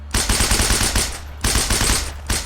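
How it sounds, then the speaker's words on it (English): MG 42 machine gun from the Heroes and Generals video game fires two rapid, loud bursts of densely packed shots, the first lasting over a second and the second following after a brief pause. "we have also updated a lot more of the weapon sounds to include the Maschinengewehr 42"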